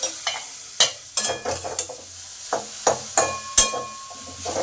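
Radish greens sizzling in a pan as a spatula stirs them in sharp, irregular scrapes and clacks, the frying hiss steady underneath, close and alone without talk.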